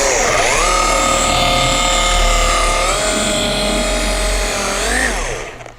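A car polisher with a 50/50 fiber pad buffing automotive paint, a loud continuous motor whine close by that rises and falls in pitch as pressure and speed shift, then winds down at the end.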